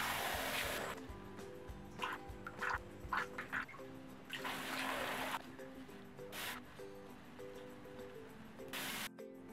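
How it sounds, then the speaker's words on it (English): A makeup sponge is rinsed under a running bathroom sink tap, giving a steady close splash of water broken by intermittent bursts and sloshing as it is worked in circles. "I'm going to rinse this sponge off and just start doing it in circular motions."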